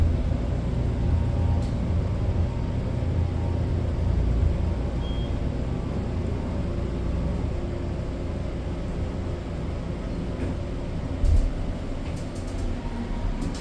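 A newly modernized elevator, formerly a General unit, at a medical center rides up one floor with a steady, close, low mechanical rumble and hum that barely changes.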